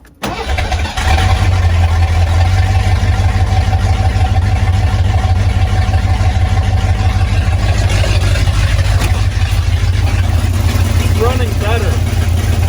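Car engine fitted with a freshly rebuilt Holley 4-barrel carburetor firing up and settling into a loud, steady, close rumble that runs throughout, with a fuel leak noted on the setup.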